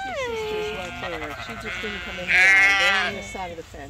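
Sheep and lambs bleat on a farm, several wavering cries overlapping one after another, close and loud, with a louder, higher bleat near the end.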